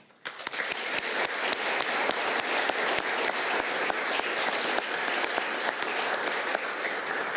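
An audience claps for school captains at a prize giving, with a brief quiet gap at the start before steady, crowded clapping that holds evenly, with sharp individual claps standing out throughout.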